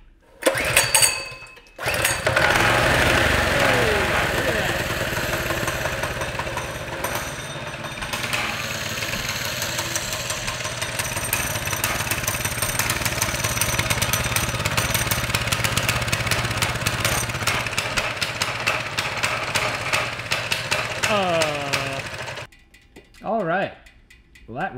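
A 212 engine on a mini bike with a torque converter runs roughly for about twenty seconds, a loud, uneven, sputtering drone close to the microphone, then cuts out, with brief clatter and a short rev at the end.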